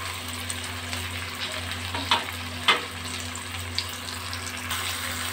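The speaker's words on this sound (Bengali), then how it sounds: "ভাজা আলু পেঁপে ক্যাপসিকামগুলো আমি দিয়ে দিলাম।" Fried potato, papaya and capsicum sizzling in hot spiced oil, a steady close crackle with a few sharper clinks of stirring.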